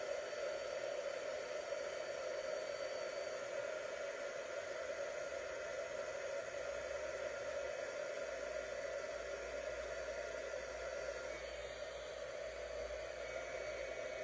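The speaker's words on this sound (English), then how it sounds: "I'm just going to quickly emboss this" A heat embossing tool blows hot air over a stamped crafting card, giving a steady loud whooshing hiss with a constant motor whine that runs unbroken throughout.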